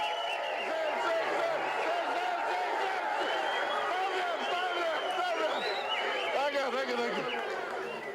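Excited cheering and chatter from a big crowd at an election rally in Tari, Papua New Guinea, a dense, sustained wash of many voices with shouts rising above the steady babble.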